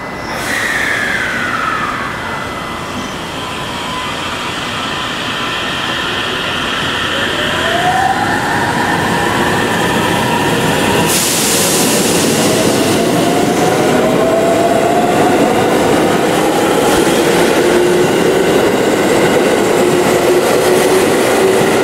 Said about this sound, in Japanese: 乗ってきた列車を見送っていきたいと思います。